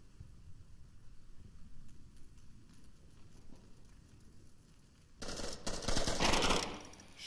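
Gunfire in the VR shooter Onward during a competitive league match: a low, murky background gives way to a sudden loud burst of rapid automatic fire that fills the last two seconds.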